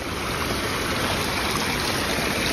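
Steady broadband rush of a mountain stream flowing near a waterfall on the Kalpeshwar–Rudranath trek in Uttarakhand, a continuous close, even wash of water with no voices.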